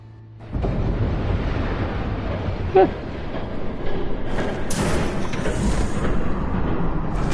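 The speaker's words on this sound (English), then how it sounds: "There's a train coming. Take cover." A train rushes past in the Batman Telltale video game, a heavy rumbling roar that starts abruptly and holds loud, with a sharp metallic clank partway through and hissing bursts toward the end.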